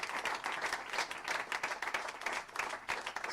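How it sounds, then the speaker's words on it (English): Steady applause from an audience at a panel talk on migration and public security, clapping in a dense, even wash after the speakers finish, moderately near and without talk over it. "A round of applause, perhaps?"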